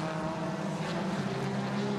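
Citroën WTCC touring car engine droning steadily on track during a race in Shanghai, a continuous buzzing tone heard from on board, loud and unbroken.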